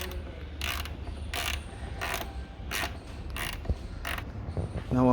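A spanner works on the headlamp mount of a Triumph Speed Twin motorcycle, making about seven evenly spaced ratcheting clicks close by, with a brief metallic knock near the end.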